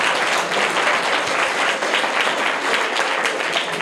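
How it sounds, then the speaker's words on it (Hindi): Dense, steady applause from an audience at a quiz prize presentation, sustained and fairly loud for about four seconds with no talking over it. "इनके लिए भी जोरदार तालियां हो जाएं।"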